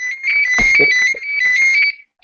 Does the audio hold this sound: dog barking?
no